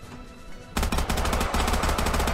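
Rapid automatic gunfire in a Minecraft video game bursts out suddenly after a quieter moment, a dense, loud rattling stream of shots continuing to the end.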